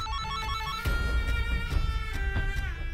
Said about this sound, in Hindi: इनका फोन आ रहा है।